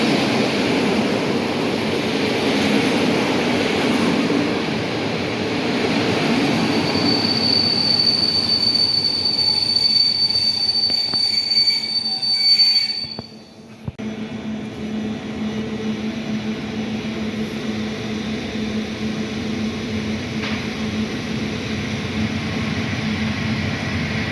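An Intercity passenger train runs through Tarnów station, a loud, steady rumble of wheels on rail with a high, sustained squeal from the wheels partway through, then continuing rolling noise as the carriages pass.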